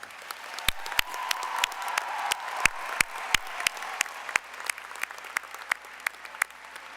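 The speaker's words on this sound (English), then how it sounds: "Graduates, please join me in a round of applause to show our appreciation for the important role faculty and staff have played in your success." A graduation ceremony audience honors faculty and staff with applause, sharp individual claps ringing out over a steady wash of clapping from a large crowd, moderately loud and sustained without voices.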